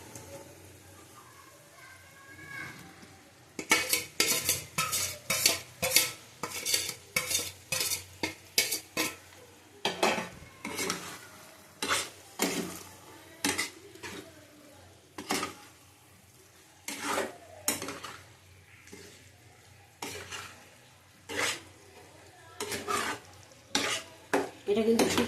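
Taro (kochu) stir-fried in a pan with panch phoron, sounding as a low sizzle under a long run of loud, rapid spatula scrapes and clinks against the metal, in bursts with short pauses between them.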